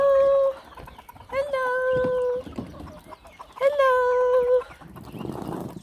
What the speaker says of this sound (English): I'm going to let the chickens out now